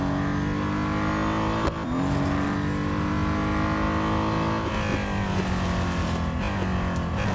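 A race car in the Real Racing 3 video game runs at Silverstone, its engine droning steady and loud with pitch sweeps as it brakes and shifts down, then picks up again.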